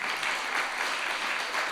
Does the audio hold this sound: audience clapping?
yes